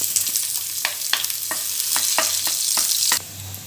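Oil tempering sizzles steadily in a pan for stuffed brinjal curry, a close, bright hiss with several quick scraping stirs, then a sharp drop in the sizzle near the end.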